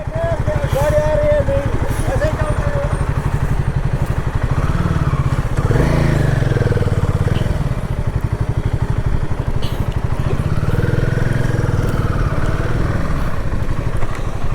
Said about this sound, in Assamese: আমি এতিয়া বাইকখন ঘূৰাব লাগিব